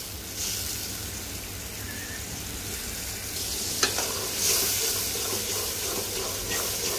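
Spice masala fries in a pan for a fish curry, giving a steady close sizzle broken by the scrape and clink of stirring, with no talking.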